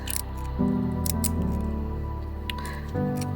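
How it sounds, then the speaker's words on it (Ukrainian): Sharp scissors trim felt around a beaded and sequined brooch, giving several crisp snipping clicks over a low, close background, with no talking. "я беру ножиці остренькі і просто обрізаю обережненько нам не потрібний фетр"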